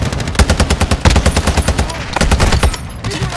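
Rapid automatic gunfire in a military shooter video game, dense bursts of close, loud shots with short pauses between them, the fire dominating the clip.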